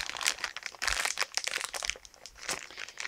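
Plastic packaging from a Beyblade spinning top being crinkled and handled during an unboxing, a close, busy stream of crackling and rustling with no voice.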